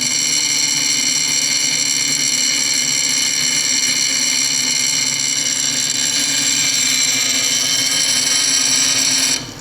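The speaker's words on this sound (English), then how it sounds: "You're gonna slowly feed this stone into the wheel." Loud, continuous high-pitched whine of a lapidary grinding wheel shaping a stone cabochon, the stone hitting high spots with a harsh abrasive buzz, steady throughout and cutting off abruptly at the end.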